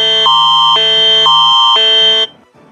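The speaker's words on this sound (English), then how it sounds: "you can click on emergency notification preview and it sounds like this" Samsung Android phone emergency alert preview tone: a loud, harsh electronic buzzing alarm pulsing in four rapid alternating bursts, then cutting off sharply into near silence.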